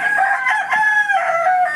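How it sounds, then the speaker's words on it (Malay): A Rhode Island Red rooster crows loudly and close by, one sustained, wavering call lasting the whole moment, with no voices over it. "Kokok sikit, kokok sikit. Oh, tak ada siapa nak kokok pula. Tadi kokok kuat sangat. Rhode Island Red."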